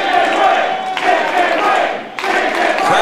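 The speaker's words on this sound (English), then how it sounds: "Crowd calling for the chicken wing before the match even starts." Loud arena crowd at an invitational tournament chanting and shouting in unison before a match, with rhythmic surges and a sharp swell near the end, the mass of voices filling the space.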